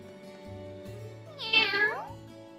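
Cat meowing in the video game Legend of Heroes: Trails of Cold Steel, one clear drawn-out meow over soft game music.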